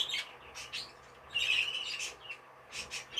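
A pet bird, a cinnamon-coloured bird with dark cheek patches and plum eyes, giving short sharp chirping calls in several separate bursts, close and fairly clear against a quiet background.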